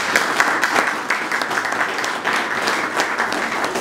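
Dense, steady audience applause fills an awards ceremony honoring a governor, many hands clapping at once in a loud, continuous wash with no talk over it.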